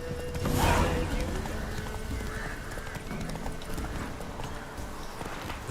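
In The Witcher 3, the horse Roach runs with quick, close hoofbeats and lets out a loud neigh near the start, under game music, with a voice speaking.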